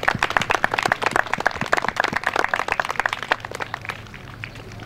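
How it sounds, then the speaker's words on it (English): An outdoor audience at a Little League baseball opening day gives a round of applause, sparse individual claps ringing out rapidly and unevenly before thinning and fading away toward the end. "we should give them a round of applause and thanks for their efforts and all they do"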